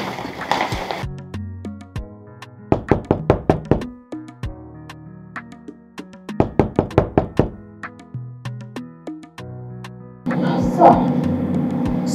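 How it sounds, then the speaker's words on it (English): Knocking on a door comes in two rapid bursts of sharp raps, loud and close, between stretches of soft music, with a noisier burst of sound at the end. "Sir, I've been knocking."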